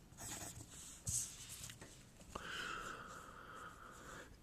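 A pen or pencil writes numbers by hand on paper, close and faint, giving soft scratchy strokes and taps with short pauses between them.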